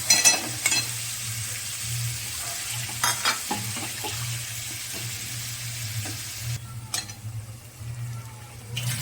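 Bhetki fish for chili bhetki fries in spiced masala in a pan, a steady near sizzle broken by repeated scraping strokes of a spatula and occasional utensil clinks.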